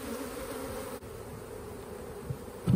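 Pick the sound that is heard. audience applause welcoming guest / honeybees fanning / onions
honeybees fanning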